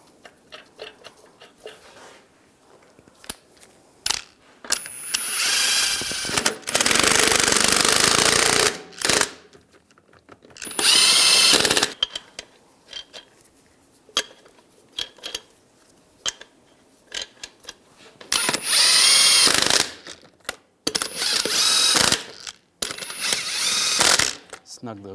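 Impact wrench spinning lug nuts onto a rear wheel of a 2011-2018 Ram 1500 during backing plate replacement, in several loud rattling bursts of a few seconds each separated by quieter handling noises.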